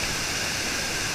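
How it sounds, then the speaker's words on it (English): Steady, dense roar of Curug Barong waterfall, a broad and constant rush of falling water that stays loud and unchanging throughout, with no voices over it. "So we're here now at the waterfall, Curug Barong."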